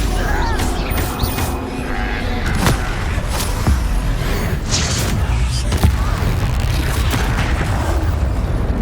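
Confringo explosive spell blasts from the Hogwarts Legacy video game amid dense combat noise, with repeated booming impacts and crashes over a continuous loud rumble, and a voice shouting spells in the fray.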